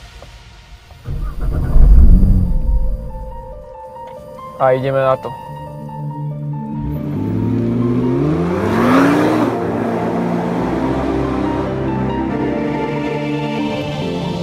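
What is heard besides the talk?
Nissan GT-R 2017 Black Edition engine starting and accelerating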